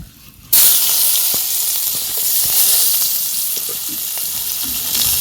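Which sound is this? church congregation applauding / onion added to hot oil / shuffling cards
onion added to hot oil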